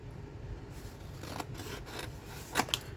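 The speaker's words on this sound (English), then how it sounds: "Just cut yourself a strip." Scissors cut a strip of paper for a lapbook with a few soft crisp snips and rustles near the end, close and quiet against a faint background hiss.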